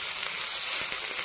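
Chopped onion frying for egg bhurji in an iron pan gives a steady, close sizzle with soft crackle throughout, no voices.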